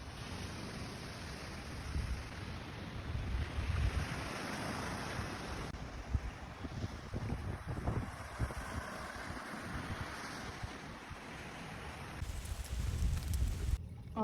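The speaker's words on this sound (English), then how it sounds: "I think the waves are just a little too powerful, washing it all back into the lake" Lake waves washing onto a rocky beach, a continuous rushing wash with gusty wind noise on the microphone, fairly faint and steady throughout with no voices.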